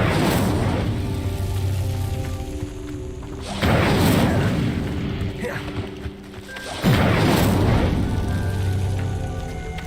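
The Incendio fire spell is cast in the video game Hogwarts Legacy, producing three loud whooshing, booming fire bursts that roar up and then fade between them.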